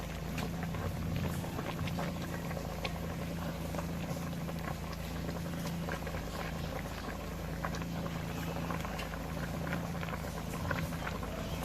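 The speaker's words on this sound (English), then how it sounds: "now our meat is cooked and is boiling" A pot of meat for Nigerian oha soup bubbles at a steady rolling boil, dense soft popping and gurgling throughout, close and fairly quiet.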